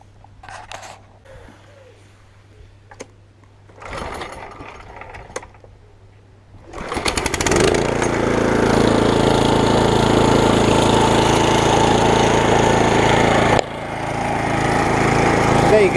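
Kohler Command 6 lawn mower engine: a few quiet pulls and knocks, then it fires and settles into a loud, steady running drone with a brief dip in note before continuing.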